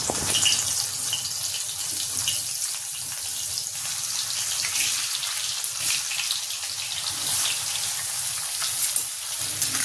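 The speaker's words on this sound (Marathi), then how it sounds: "त्याला आपण तेलामध्ये थोडंसं असं फ्राय करून घेऊ 1-2 मिनिटासाठी फक्त।" Stuffed bitter gourds fry in hot mustard oil with cumin, giving a steady, dense sizzle and crackle that holds close and even throughout, with no voices.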